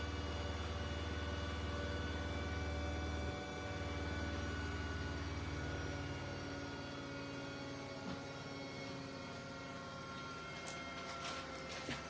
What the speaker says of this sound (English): the washing machine is making hell of a noise